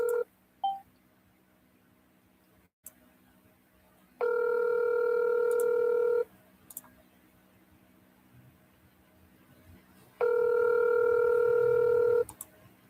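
Telephone call being placed to a real estate lead: a short burst of dialing tones, then two long, loud ringback tones separated by a quiet pause, close and clear with no talking.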